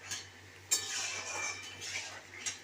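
Metal lid set onto a cooking pot of egg curry on the stove, with a sharp clink followed by soft scraping and rattling of cookware and a second light clink near the end, fairly quiet.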